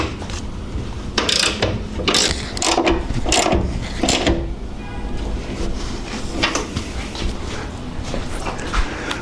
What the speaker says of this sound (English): let's go in here and tighten these side straps down